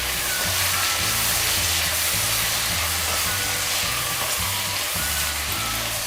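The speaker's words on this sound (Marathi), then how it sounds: "आणि छान आपल्याला परतून घ्यायचा आहे कांदा" Onion, green chili and ginger sautéing in a hot pan for paneer pulao, with a steady, close sizzle and hiss throughout, no talking.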